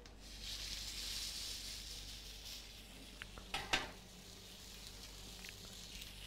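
Meat searing in a hot pan gives a steady, faint sizzle, broken near the middle by a few soft clinks and scrapes as the pieces are turned.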